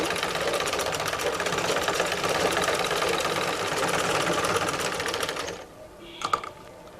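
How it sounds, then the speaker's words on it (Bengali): A sewing machine stitches elastic into a salwar, running as a steady rapid close whirr for several seconds, then stopping, followed by a few light clicks. "আমি এই যে সেলাইটা করছি"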